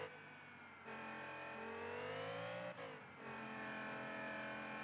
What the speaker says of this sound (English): I'm on and off the throttle